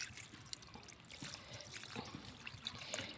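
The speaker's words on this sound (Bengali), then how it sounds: "এবার আমি একটু পানি দিয়ে দেবো।" Water poured into a pot of desi chicken curry, a soft, faint trickle and splash running steadily for a few seconds with no voices.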